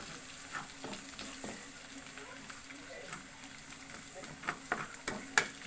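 Garlic sautés in a pan for a home-cooked stir-fry, a steady soft sizzle with occasional stirring clatters growing sharper toward the end, while a person talks over it.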